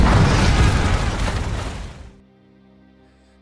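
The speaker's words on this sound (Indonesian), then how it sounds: "Bishop segera meledakkan kapalnya menggunakan bom yang sudah lama ia pasang di sana" A boat destroyed by a remote-detonated bomb at a dock: a loud, sustained roaring explosion that rumbles for about two seconds, then cuts off abruptly into near silence.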